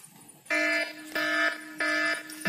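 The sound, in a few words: Android phone anti-theft app alarm sounding when phone touched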